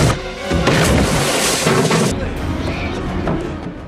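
A loud, heavy crash from a rampaging anaconda in a film scene, with booming impact noise, followed by rumbling debris and lingering commotion as the sound decays.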